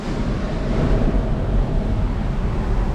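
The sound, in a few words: ocean waves at a beach cave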